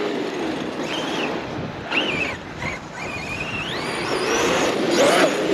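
An Arrma Outcast EXB electric RC car runs on an outdoor BMX track, its motor whining in rising and falling pitch sweeps over steady rough tyre and wind noise, with no voices.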